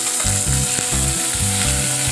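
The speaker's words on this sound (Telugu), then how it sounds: "Green chillies, curry leaves and garlic ఇవన్నిటిని వేసుకుని వేయించుకుందాం." Green chillies, curry leaves and garlic fry in hot oil while cooking moong dal, giving a loud, steady sizzle with crackling pops and the scrape of stirring, with no talking.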